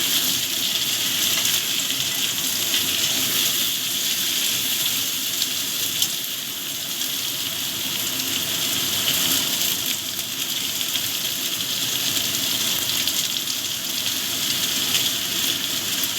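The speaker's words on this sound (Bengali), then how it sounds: "সব সবজিগুলো আলাদা আলাদা করে ভেজে নিতে পারো তারপর তেলে ফোড়ন দিয়ে পেঁয়াজটা দিতে পারো আমি সব একসাথেই ভেজে নিচ্ছি" Vegetables fry together in hot oil, giving a steady, dense sizzle with a hiss that holds at an even level throughout, without pauses or voices.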